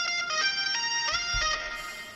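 A psytrance guitar section in triplets, bright plucked tones in a quick repeating pattern with short percussive hits underneath, close and moderately loud, fading slightly at the end.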